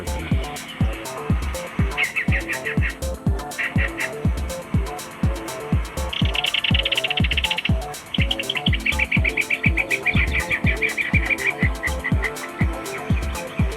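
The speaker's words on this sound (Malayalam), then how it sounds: "രാവിലെയാണ് അപ്പോൾ നിറച്ച് കിളികളുണ്ട്" Morning birds chirp in bright bursts at a house in Manjeri, Kerala, over a steady, regular thumping pulse that runs throughout, fairly loud and close.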